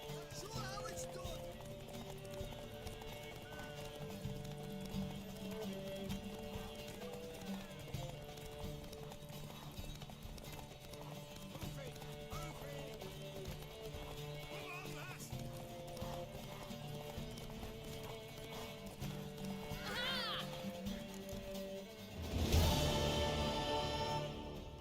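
Horse hooves clip-clop at a gallop through a Witcher 3 game scene, a steady rhythmic run under music and voices, with a brief whinny near the end followed by a louder burst.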